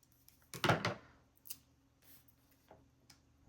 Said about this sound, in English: This one, I think I will cut in half lengthwise.